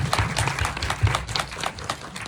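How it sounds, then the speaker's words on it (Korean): A short burst of audience applause at a film screening and director Q&A, many hands clapping irregularly at moderate loudness, with no voices over it. "일단 박수 한번."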